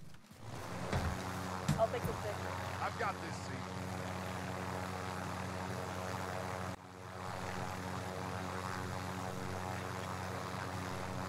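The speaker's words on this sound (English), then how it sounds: "we got the helicopter to get to it faster." A helicopter in Call of Duty Warzone, set in Verdansk, gives a steady droning engine hum with a low rotor throb that continues throughout, under game ambience, with a brief clatter early on.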